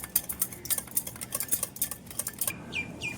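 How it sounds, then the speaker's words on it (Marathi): A spoon clinks and scrapes rapidly against a bowl while curd is whisked, a quick steady patter of small metallic taps close by with no talk. "दही चांगलं असं फेटून घ्यायचं आहे."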